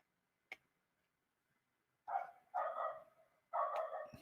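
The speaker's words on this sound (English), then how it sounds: "Next door neighbour's dog." A neighbour's dog barks three times at a distance, short separate woofs spaced about a second apart, after a quiet stretch broken by one faint tap.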